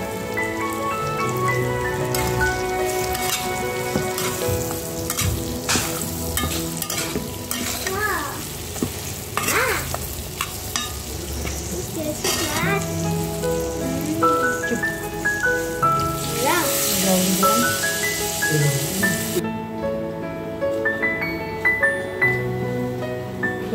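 Tengra fish curry spiced with cumin and coriander powder simmers in a pan, a continuous dense crackle of bubbling and frying with scattered stirring clatters, steady and close throughout before thinning out at the end.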